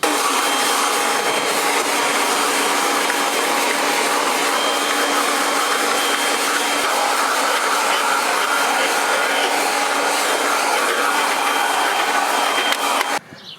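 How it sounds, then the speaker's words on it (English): A vacuum cleaner runs steadily on GMC Sierra truck seat covers, a loud continuous whining roar that stays constant throughout and cuts off at the very end. "Alright, so I did my initial vacuuming,"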